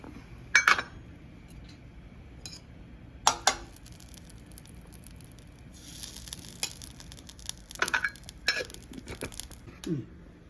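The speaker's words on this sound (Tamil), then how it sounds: "பாதாம் முந்திரியெல்லாம் போட்டு நல்லா நெய்யில் வறுத்து ஏலக்காய் அதில் போடணும்" Almonds and cashews frying in ghee in a pan, a soft steady sizzle with scattered metallic clinks and scrapes of a utensil against the pan, no speech.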